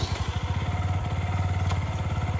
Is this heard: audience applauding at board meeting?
no